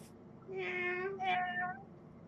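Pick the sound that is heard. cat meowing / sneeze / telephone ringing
cat meowing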